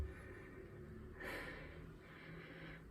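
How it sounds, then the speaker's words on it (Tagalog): Someone breathes heavily and audibly after climbing stairs to a third floor at home. Two or three faint breath sounds come close over a low background hum. "hinihingal pa ako kasi umakyat ako ng hanggang 3rd floor"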